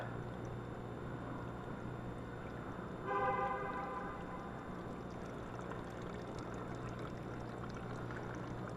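Motorcycle coolant draining out steadily, a constant low trickling pour that runs throughout, with a brief louder splash about a third of the way in and no talking.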